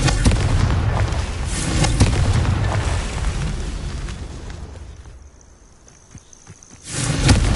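Confringo fire spell blast from the Hogwarts Legacy game: a loud, sustained booming explosion that rumbles and slowly fades toward near quiet, followed by a fresh burst at the end.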